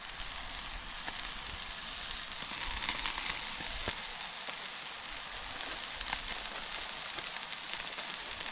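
Bacon sizzles on a grill beside a burger at a campsite, a steady dense hiss and crackle with scattered pops, constant and moderately close throughout.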